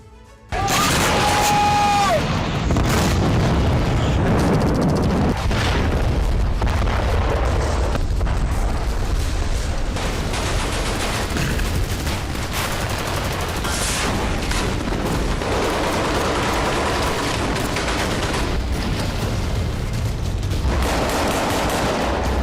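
Bombardment in Khan Younis, Gaza, with loud, dense bursts of explosions and rapid gunfire-like cracks crowding together nearly without pause over a constant roar.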